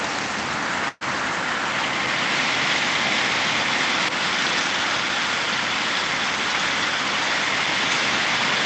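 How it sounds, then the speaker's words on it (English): Heavy, steady rain pours down continuously during a storm in Canton, Oklahoma, a dense hiss with a brief gap near the start and no voices. "it's raining and it's pouring."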